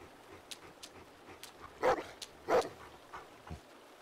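A dog in a video game whimpers and yips in a few short, soft cries over a quiet background hum.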